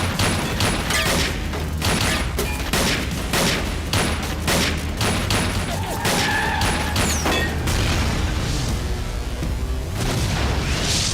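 Loud, sustained gunfire in a Hindi film scene: dense volleys of shots and sharp bangs run almost continuously, with brief voices mixed into the barrage.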